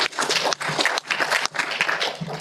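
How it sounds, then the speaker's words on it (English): Applause from an audience at a youth leadership symposium fills the room, a dense continuous clatter of many hands with a couple of brief dips, fairly close and loud. "Give ourselves a big clap,"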